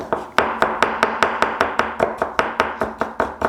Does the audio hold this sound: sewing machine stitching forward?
no